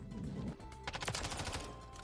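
Rapid automatic gunfire in the Modern Warfare 3 video game, a burst of quick sharp shots in a rooftop battle, clustered in the second half over a rumbling background.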